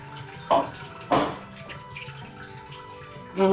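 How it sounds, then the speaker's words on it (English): Tallow and water are poured slowly through a napkin-lined strainer, giving two brief splashing pours early on, soft trickles and drips between them, and another pour starting at the end. "now I'm just going to slowly pour the tallow and the water through this"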